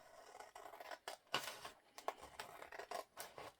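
Several sharp snips of scissors cutting through a stiff paper gift bag, irregular bursts with short pauses between, close and crisp in a quiet room.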